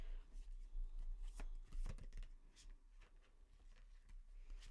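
Tarot cards are shuffled close by in a quiet room, a run of soft, irregular riffling and tapping bursts.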